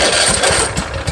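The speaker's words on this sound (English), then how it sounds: "Fires right up." A Husqvarna Z254 zero-turn mower engine fires and runs loud and close, holding a steady, rough mid-pitched rumble throughout.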